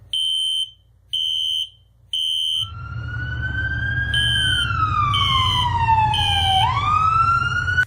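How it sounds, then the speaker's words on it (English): A cartoon fire alarm rings in three short, loud, evenly spaced electronic bursts, then gives way to a continuous rising-and-falling wail with a low rumble beneath, with no talking. "Someone did pull the fire alarm"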